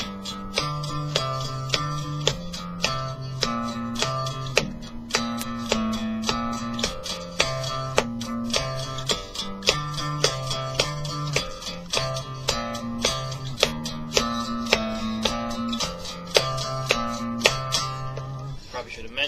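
Electric guitar tuned down a whole step picking a fast riff with every note struck twice, a steady driving pulse over low palm-muted tones, continuous and close.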